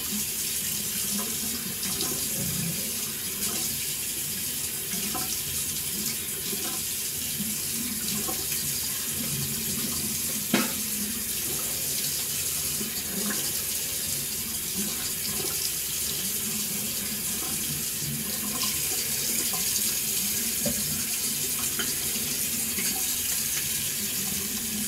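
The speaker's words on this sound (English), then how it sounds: "I'm gonna wash my face off and then get the second pass going" A bathroom sink tap runs steadily while someone washes their face after a first shaving pass with a Voskhod Teflon-coated razor blade, close and continuous water splashing with occasional louder splashes from hands.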